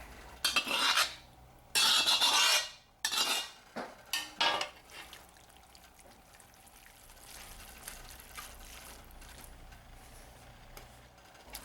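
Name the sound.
vegetables being added to a cast iron pot for Brunswick stew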